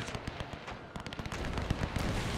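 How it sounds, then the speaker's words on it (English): Rapid staccato bursts from a French machine gun in a WW1 battle video game, dense rattling fire close and loud with overlapping distant shots. "That French machine gun operator is actually getting quite a few kills."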